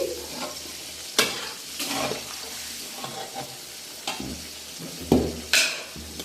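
Olive pickle is stirred and fried in a large pan, giving a soft continuous sizzle broken by several sharp scraping clatters of the spoon against the metal.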